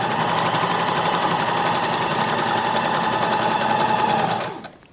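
A sewing machine back-stitches a duck pillow, a loud, close, rapid needle clatter running steadily for about four and a half seconds before stopping abruptly.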